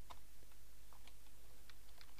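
Quiet computer keyboard typing with scattered, irregular keystrokes, close by over a steady background hum, during a Visual Basic 2010 programming session.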